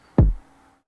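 A single dry snare drum hit, unprocessed with no saturation, in an FL Studio beat production; one sharp close attack with a short body decaying within half a second, heard alone.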